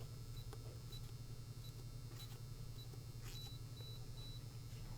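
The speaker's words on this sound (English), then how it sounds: "Gave us 3 orange lights and beeps." A Schlage FE575 electronic keypad lock beeps in short, quick groups of three against a steady low hum, fairly faint and with no talking.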